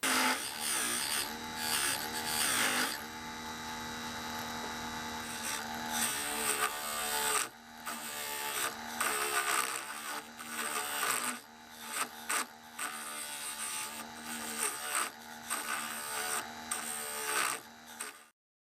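A wooden blank for a drawknife handle turned down for a ferrule on a lathe: continuous rasping and scraping of the cutting tool against the wood, with short pauses between passes.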